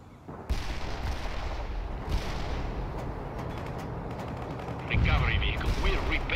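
Battle gunfire in the real-time strategy game World in Conflict as an APC returns fire: dense, continuous shooting and explosions layered with radio chatter, growing louder and harsher toward the end.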